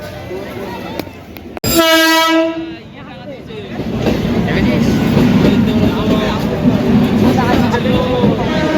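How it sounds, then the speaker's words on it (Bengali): A train pulls into a station crowded on the Durga Puja Ashtami holiday, sounding a loud horn blast, then rolling in with a building rumble and rattle of wagons while people talk nearby. "চলো ট্রেন আসুক তারপরে যাক"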